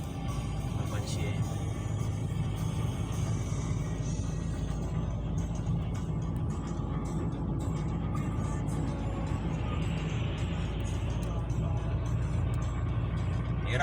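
A sedan without four-wheel drive travelling on winter roads gives a steady, continuous low rumble of engine and road noise throughout, with a voice talking over it.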